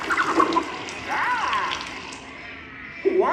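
Rushing water spray effect during a 3D theme park show at Walt Disney World, a loud steady hiss and splash with swooping whooshes, heard alone.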